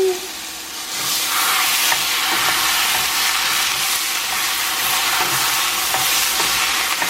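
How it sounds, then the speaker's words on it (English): Hot rice sizzles steadily in a pan as cold tomato sauce is stirred in, a loud continuous frying hiss with faint scraping of the spoon, no talking. "I like to mix it in just a little to kind of like wake up that tomato sauce."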